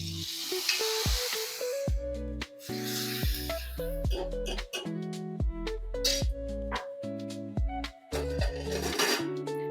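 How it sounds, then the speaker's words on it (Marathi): Hot tempering of oil with dried red chillies poured over a drumstick leaf dish gives hissing bursts of sizzle, heard alongside steady background music. "आता ही फोडणी आपण ह्याच्यावर घालून घेणार आहोत."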